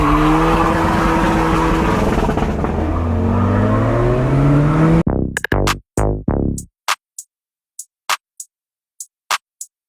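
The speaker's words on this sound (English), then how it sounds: "I'm driving a Skoda Fabia Mk1 VRS." A 2006 Skoda Fabia Mk1 vRS with a 1.9 diesel engine, heard as a loud, close engine drone with rising tones for about five seconds, then cutting to short, sharp bursts separated by silence.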